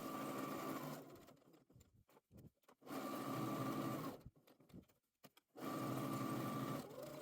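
Domestic sewing machine stitching the top, long edge and sides of apron bib pieces, running in three sustained bursts with short pauses between, close and steady.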